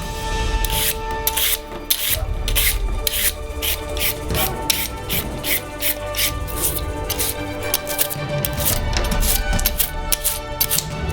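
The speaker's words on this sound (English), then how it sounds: "We take a basin and begin to peel the carrots with a vegetable peeler." Vegetable peeler scraping along raw carrots over a basin, a steady run of quick rasping strokes close up, with busy kitchen clatter and low background noise under it.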